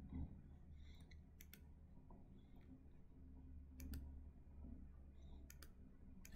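A computer mouse clicks in scattered sharp, faint ticks, several pairs of quick clicks spaced a second or two apart against a quiet low room hum with no speech.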